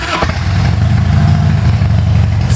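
A Harley-Davidson Heritage Twin Cam with a Stage 1 Vance & Hines exhaust cranks briefly and fires up, settling into a loud, close, lumpy V-twin idle that throbs steadily throughout.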